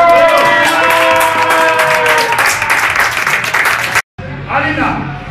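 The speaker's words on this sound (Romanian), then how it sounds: "Aplaudați-o pe Alina!" An audience applauding and cheering for a contestant, dense clapping with raised voices and shouting on top, loud and close, cutting off abruptly before a short burst of crowd noise resumes.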